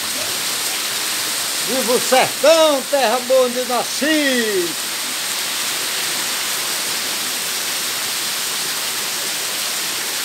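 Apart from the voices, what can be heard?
heavy rain pouring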